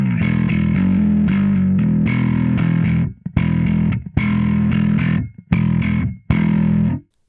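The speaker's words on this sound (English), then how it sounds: "this is a pretty cool way of stacking distortion circuits" A heavily distorted bass guitar through a Dingwall 35th anniversary drive pedal with stacked distortion circuits plays thick, fuzzy sustained notes, then a series of choppy chords cut off by short silences.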